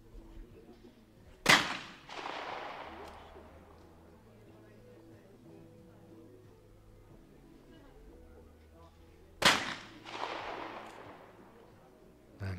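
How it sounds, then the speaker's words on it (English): Shotgun shots ring out during a men's trap shooting final: two sharp, loud blasts about eight seconds apart, each trailing off in a brief echo, with a commentator's voice in between. "Great shooting from Borga"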